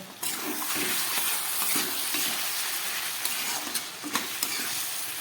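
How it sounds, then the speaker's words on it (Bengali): Meat sautés in oil with spices and cumin powder for a Bengali kosha curry. A steady sizzle continues throughout, broken by several scraping stirs of the spoon against the pan. "মাংসটাকে কষাতে দিয়েছিলাম দেখুন কত সুন্দর তেল বেরিয়ে গেছে"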